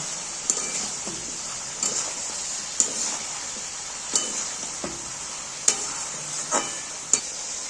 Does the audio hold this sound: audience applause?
no